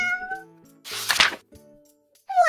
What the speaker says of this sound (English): I see a purple cat looking at me